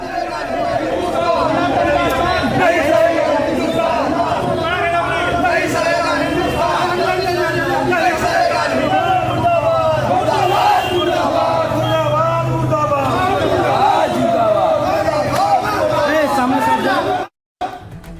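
Protesters in Howrah shout slogans while burning an effigy of Pappu Yadav, a dense, loud crowd roaring and chanting continuously before cutting off abruptly near the end.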